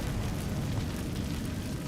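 The Incendio fire spell bursts out in Hogwarts Legacy as a short, loud, continuous whooshing roar of flame with a heavy low rumble.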